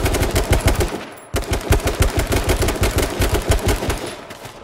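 Rapid automatic gunfire in the battle royale video game H1Z1 rattles out in fast, loud, close bursts, pausing briefly once before the rhythmic shots resume and trail off near the end, with no talking.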